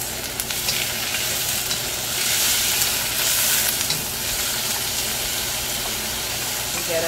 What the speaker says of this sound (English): So I'm stir frying this for a couple seconds.